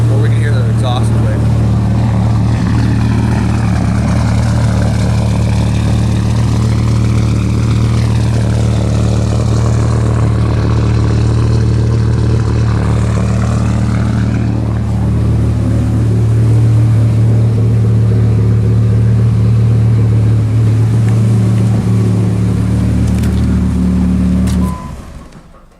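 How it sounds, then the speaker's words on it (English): Truck fitted with a rattling fender-dump exhaust idles loudly and steadily with a strong low drone for about 25 seconds, then cuts off near the end. "Or we can hear the exhaust play."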